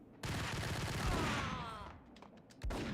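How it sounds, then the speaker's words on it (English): A grenade blast in the Max Payne video game, a loud sudden burst with a long rumbling decay, then a second sharp hit near the end, with no talking. "I hear a freaking grenade sound now."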